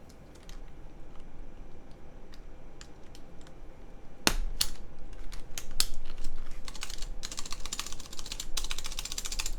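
Sensy Lab Seal80 mechanical keyboard typed on in a steady run of close clicks and clacks, growing busier and louder halfway through, with a faint rattle from the stabilizer wire mixed into the keystrokes.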